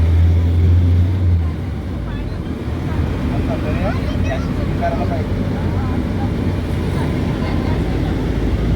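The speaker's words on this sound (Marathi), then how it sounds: "इथे पण बोट चाललेले आहेत" Motorboats running on the water at Dona Paula in Goa give off a steady, low engine rumble and wash that holds through the whole stretch, with faint background voices.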